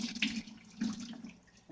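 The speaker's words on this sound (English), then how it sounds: "I'm gonna add water and I'm gonna keep doing this until all the shaft comes out." Water runs and splashes briefly over black-eyed beans being rinsed in a bowl to remove the skins for akara, a soft, close trickle with a couple of small surges.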